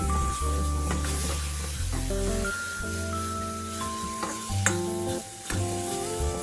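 Food stirred and mixed in a hot pan while it sizzles, a spatula scraping in steady strokes over continuous frying hiss, with a few clinks and no talk.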